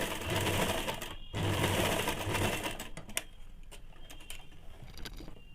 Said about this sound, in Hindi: चेन को थोड़ा सा बाहर की तरफ निकाल के इसके ऊपर मशीन चला लेंगे